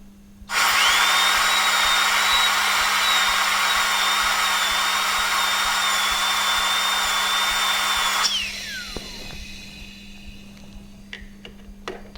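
A dental drill fitted with a number 245 burr whines steadily while cutting a class 1 cavity in a tooth, a loud continuous high-pitched tone for about eight seconds that then spins down, followed by faint clicks.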